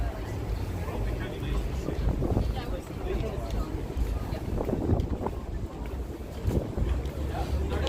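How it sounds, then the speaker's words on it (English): Tires whir on a 2004 Jeep Rubicon with big Boss tires, a steady rumbling road drone with wind buffeting, heard while people talk nearby. "Yeah, you could hear your tires whirring."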